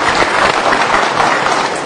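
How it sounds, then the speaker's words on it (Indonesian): Audience applause at a motivational seminar, a dense, steady wash of many hands clapping close and loud for the full stretch with no talk over it. "Tepuk tangan sekali lagi dulu buat Ripan ya."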